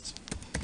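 Typing on a computer keyboard while entering a command in a terminal during a password-cracking lab, with a few quick, soft key clicks close by over a faint background hiss.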